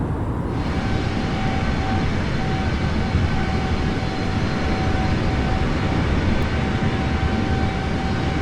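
An airliner's engines drone steadily and loudly inside Microsoft Flight Simulator during a descent, a dense continuous roar with a faint steady tone and no talk.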